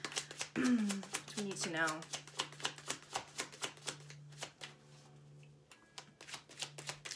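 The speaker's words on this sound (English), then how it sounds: "I'm gonna pull three outcome cards with the Vice Versa deck." Tarot cards from a Vice Versa deck are pulled and shuffled, giving a run of quick papery slaps and flicks, soft and close, with a person speaking briefly near the start.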